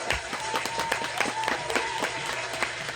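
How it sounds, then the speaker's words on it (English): Round of applause for guests on a live radio show, rhythmic clapping with distinct repeated hand strikes over a dense background and a steady tone running beneath, fairly close and consistent. "I'm giving them a round of applause"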